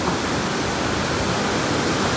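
Kynrem Falls in Meghalaya roars in a steady, dense rush of falling water, loud and close, a continuous wash of noise with no talk.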